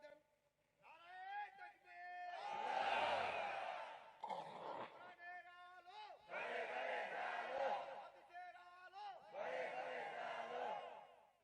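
A crowd at an Islamic sermon chants a takbir slogan in loud bursts of many voices, alternating with a single voice leading the call.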